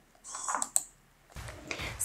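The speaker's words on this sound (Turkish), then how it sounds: "Klavyeden boşluk tuşuna basıyorum." Soft clicks from a computer keyboard as the space key is pressed, a light tap followed by a brief faint rustle, quiet and close with no talking.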